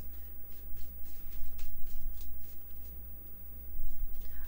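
Playing cards are shuffled repeatedly nearby, soft riffling flutters coming in quick bursts over a low background hum.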